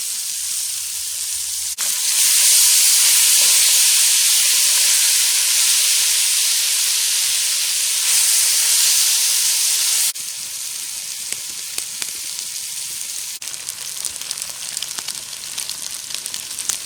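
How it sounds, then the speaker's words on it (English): Onions sizzle loudly in a Dutch oven at a boar and chanterelle stew cook, a bright frying hiss that settles lower after several seconds, with occasional stirring scrapes. "I'm just going to add some onions to that. I just like to get them fried off a wee bit as well"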